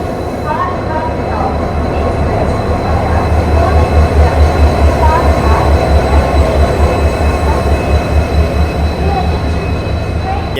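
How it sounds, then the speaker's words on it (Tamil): Diesel local train hauled by a WDP 4D locomotive arriving on the Walayar ghat section: a loud, continuous rolling rumble of wheels and engine that swells slightly mid-way, with faint voices nearby. "டீசல் லோக்கல் வந்துட்டு இருக்குங்க. WDP 4Dயில் வந்து வந்துக்கிட்டு இருக்கு."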